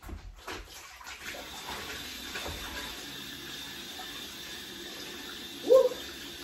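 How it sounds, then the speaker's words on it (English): Hot water running from a kitchen tap while hands are washed during meatloaf preparation, a steady soft rushing stream under a faint background, ending with a brief louder splash near the close. "now I'm gonna wash my hands again"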